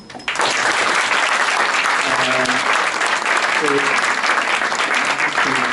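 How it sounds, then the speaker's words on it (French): Loud, dense applause from an audience at a political book fair conference debate, starting abruptly and continuing as a close, sustained roar of clapping with faint voices underneath. "je pense qu'elle mérite l'applaudissement"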